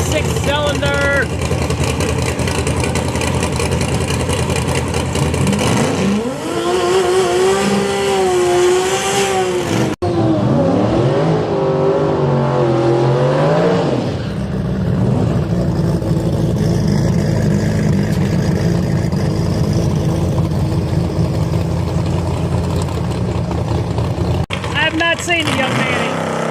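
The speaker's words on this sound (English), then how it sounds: "Here comes the Lexus Pro Mod Eric JRZ machine" Single-turbo six-cylinder Lexus Pro Mod drag race car at a motorsports park during testing, a loud engine roaring and revving in rising, wavering sweeps, heard from nearby with a commentator talking over it.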